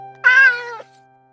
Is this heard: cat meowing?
yes